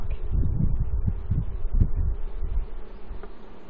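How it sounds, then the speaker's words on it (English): A honeybee buzzes near dripping honeycomb pulled from a top bar hive, a steady low drone with pulsing swells, close and fairly loud, no voices. "There's a bee, but he's"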